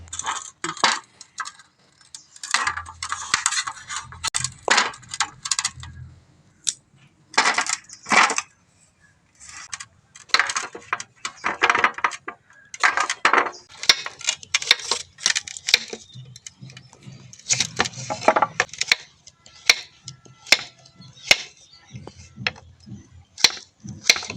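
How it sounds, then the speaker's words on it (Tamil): Knife chopping prawns into small pieces on a board, a long run of sharp, irregular taps and clicks, some in quick bursts and some spaced apart, close and crisp, with quiet gaps between. "இந்த மாதிரி நைஸாக வெட்டினா தான் இந்த இறாலோட நல்லா வேகும்"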